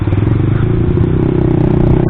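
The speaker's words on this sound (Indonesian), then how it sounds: "aku mengakui knalpot kita itu bising" A loud, throaty motorcycle exhaust rumbles steadily up close, a deep, continuous engine drone.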